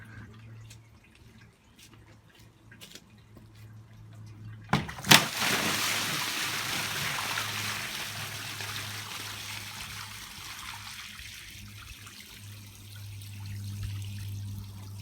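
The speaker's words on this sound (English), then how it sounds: "let's get all that water out of the washing machine." Water drains out of a washing machine, starting with a sudden gush and splash that settles into a steady trickling stream, fading slowly toward the end after a few faint knocks at the start.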